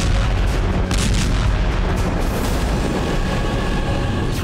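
Drone strike explosions hit an energy site in Russia's Ryazan region, a loud, dense roar of booms and rumbling blasts that runs continuously without a pause.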